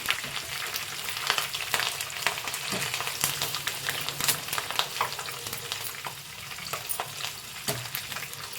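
Curry leaves sizzling in hot oil on a stove for a ladies finger pakoda dish, a steady crackling fry with sharp pops throughout and no talk.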